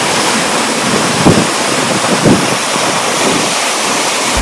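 Aw-Asen Waterfalls in Ilocos Sur, the tallest falls in Ilocos, pours with a loud, continuous rushing roar close by, with a few gusty swells and no voices.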